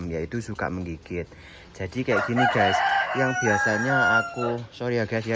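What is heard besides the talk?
rooster crowing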